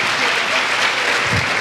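Church congregation applauding in a short, steady burst of dense clapping that fills the room, loud and continuous with no pauses.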